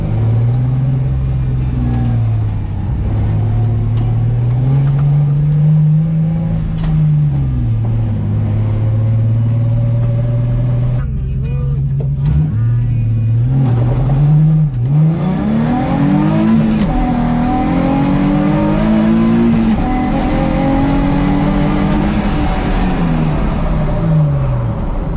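A Nissan 350Z fitted with a VHR intake manifold drives and revs hard, its engine note climbing and falling in loud, close sweeps with steady rumble throughout and no talking.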